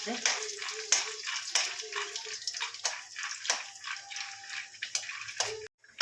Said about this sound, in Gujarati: આપણે એક વાટકી ટીંગાના કાચા લીધા છે અને હલાવશું